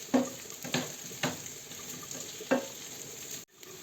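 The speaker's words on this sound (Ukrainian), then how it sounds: "І перемішуємо, аби вона гарно е, з'єдналася разом з цибулькою." Boiled potatoes stirred in a pan with onion, paprika and oil, with a steady sizzling hiss under several scraping strokes of the spoon at irregular intervals, close by.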